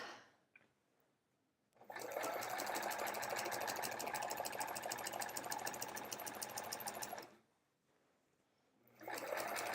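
A sewing machine stitching strips for an hourglass quilt block, running in a steady, fast, close mechanical chatter for several seconds, then stopping and briefly starting again.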